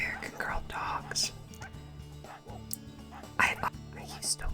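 Small dogs yipping and barking in an American Girl online video game, short bright game-audio barks recurring over a soft whispered voice.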